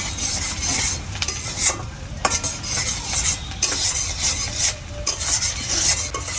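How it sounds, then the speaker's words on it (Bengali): Onion sizzles in a pan alongside prawns, and a utensil scrapes and stirs it steadily, giving a loud, continuous hiss broken by repeated stirring strokes with no talking. "পেঁয়াজটা হালকা ভাজা হয়ে গেছে"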